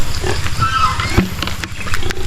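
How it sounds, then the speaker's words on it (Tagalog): Pigs on a small farm feed at mealtime, with continuous loud chomping, snuffling and grunting close by, a dense chewing texture throughout with occasional sharper snorts. "ito na yung isang baboy pa natin napakalakas ng kumain no?"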